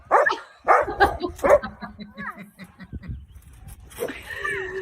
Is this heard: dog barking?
yes